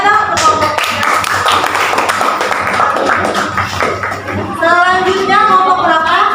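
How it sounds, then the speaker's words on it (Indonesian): Classroom students clapping for a presenting group in a sociology lesson, brisk uneven claps close by, with voices and some tonal sound rising toward the end. "tepuk tangan dong untuk kelompoknya"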